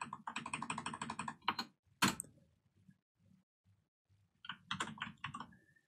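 Bursts of quick, close keystrokes on a computer keyboard during a hacking session, then a pause with a few soft taps before another short flurry of typing.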